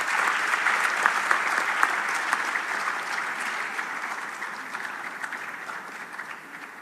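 A crowd at the 3i Africa Summit applauding steadily, dense clapping that starts strong and gradually tapers off, with no voices over it.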